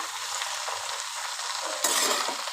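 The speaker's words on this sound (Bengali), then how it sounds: "আজকে আমি করছি সর্ষে ফোড়ন দিয়ে" Mustard seeds tempering in hot oil while red amaranth greens cook, a steady bright hiss of frying that surges louder partway through, with faint clinks from a utensil.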